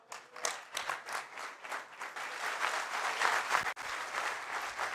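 A church congregation applauds during a Pentecost sermon, with dense, steady clapping that carries on for several seconds at moderate loudness and no speech over it.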